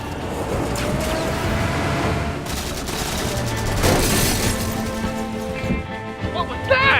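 Gunfire and heavy artillery in the Halo game world, a dense, continuous barrage of shots and booms that runs throughout, with a few louder bursts near the end.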